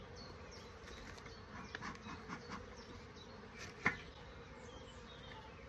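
Honeybees buzzing around a hive entrance in an apiary, bringing in pollen, with a faint continuous hum and a few closer fly-by buzzes; quiet and without speech.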